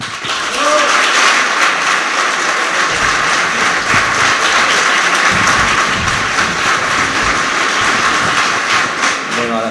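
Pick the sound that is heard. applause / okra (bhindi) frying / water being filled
applause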